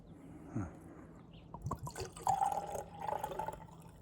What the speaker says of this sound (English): I'm going to pour some more right in the glass here.